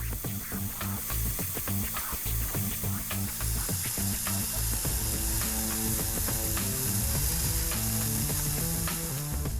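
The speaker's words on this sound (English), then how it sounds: "Marinate a steak in spices, add garlic, rosemary, and cover with oil. Then fry on a grill." Steak marinated in spices with garlic, rosemary and oil frying on a grill, giving a steady close sizzle with crackling pops and scraping clatter throughout.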